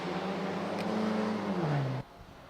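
Touring racing cars at the Riga circuit sweep through turn 1. One close, loud engine note holds steady, then drops in pitch as it lifts and passes, cutting off abruptly.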